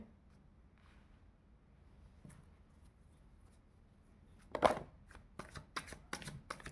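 Tarot cards being shuffled close by, a quiet stretch of faint handling that gives way to a burst of crisp riffling slaps near the end, with no talk.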